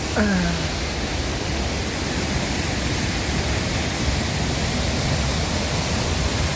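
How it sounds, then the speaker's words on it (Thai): Hua Chang waterfall on a forest trail in northern Thailand roars in a loud, unbroken rush of water, with a brief whistling tone at the very start. "น้ำตกครับ"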